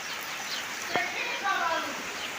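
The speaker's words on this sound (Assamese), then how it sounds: "বৰষুণ পুৰা বৰষুণ দিছে একদম" Heavy rain pours down as a dense, steady hiss filling the air, with a voice speaking over it and a faint bird call briefly rising through the downpour.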